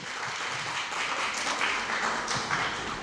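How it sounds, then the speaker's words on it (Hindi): A studio audience at a Hindi talk show applauds the show with dense, continuous clapping, steady and fairly loud for a few seconds, with no voices. "एक बार जोरदार तालियां हमारे शो के लिए।"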